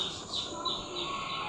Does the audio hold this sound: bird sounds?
yes